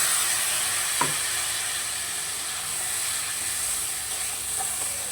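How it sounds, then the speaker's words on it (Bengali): Ground mustard and green chilli paste goes into a hot pan for a vegetable fish curry, giving a soft, steady sizzle and hiss with a faint stir, close by and without talk. "এবারে আমি যে সর্ষে আর কাঁচা লঙ্কাটা বেটে রেখেছি সেটাকে দিয়ে দিলাম"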